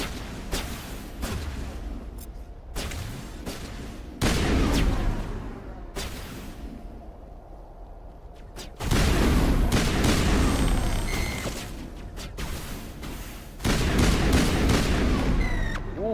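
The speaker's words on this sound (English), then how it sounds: "Wow, this gun really is powerful" A powerful gun in Mass Effect Legendary Edition fires in heavy, booming bursts, loud blasts with rumbling tails separated by short quieter gaps.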